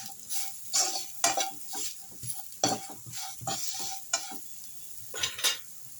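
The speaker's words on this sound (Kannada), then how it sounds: "ಈಗ ಸ್ವಲ್ಪ ಪೆಪ್ಪರ್ ಪುಡಿ ಇವಾಗ ಇದನ್ನ ಹಾಕಿ ಚೆನ್ನಾಗಿ ಮಿಕ್ಸ್ ಮಾಡ್ಕೊಳ್ಳಿ" Sliced bitter gourd with pepper powder being stirred in a hot pan, a spatula scraping and knocking the metal in repeated strokes over a steady background sizzle, loud and close.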